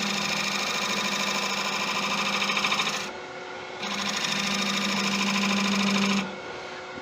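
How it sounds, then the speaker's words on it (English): A wood lathe turns a chestnut burl as a tool makes a side bevel cut: a loud, steady motor whine and cutting rasp run, stop briefly midway, then resume and cut off again near the end. "I'll just start that out with a side bevel cut."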